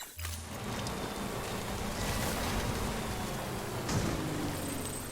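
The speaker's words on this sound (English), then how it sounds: "our truck is again getting ruined in the rain" Steady rain pours in the video game Death Stranding while a truck drives through the downpour, a dense even hiss of drops holding at constant loudness with a low engine-like rumble beneath.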